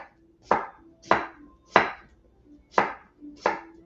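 A knife slices cucumber into quarter-inch pieces on a cutting board: five crisp, close cuts at a loose, unhurried rhythm, with quiet gaps between and no talking.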